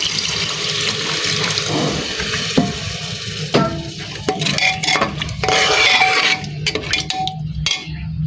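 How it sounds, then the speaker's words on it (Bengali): Water from washing a grinding stone poured into a pan of fried spices such as cinnamon and cardamom, a loud splashing pour with sizzling and clattering, no talk. "আমি এখন এই পর্যায়ে দিয়ে দিব পাটা ধোয়া পানিটা"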